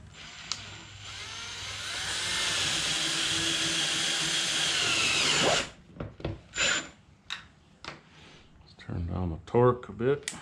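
A power tool buzzes steadily while tightening bolts on the transom wheels of a dinghy, running loud and continuous for several seconds before stopping, followed by short rattling and scraping handling noises.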